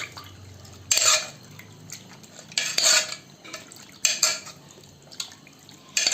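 Mutton being stirred in a metal pressure cooker for a chukka fry, with intermittent clanks and scrapes of a spoon against the pot in short bursts separated by quieter moments of faint background hiss.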